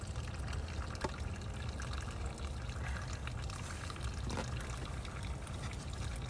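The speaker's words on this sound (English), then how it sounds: "All I'm doing is feeding water directly into the house." Water flows steadily from a hose feeding into a house, a continuous close rushing pour with a few faint knocks, no talking.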